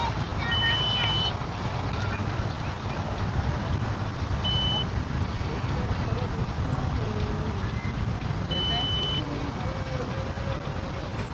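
Outdoors at a city park lake, vehicle reversing beeps come in short spaced bursts, moderately distant, over steady wind and traffic rumble.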